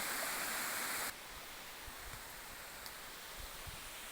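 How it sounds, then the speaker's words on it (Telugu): Water falling from a hillside onto a pond embankment rushes with a steady hiss, loud at first and then softer and more distant for the rest. "ఇక ఇక్కడ చూసినట్లయితే నీళ్ళు పడుతుంది పైనుంచి"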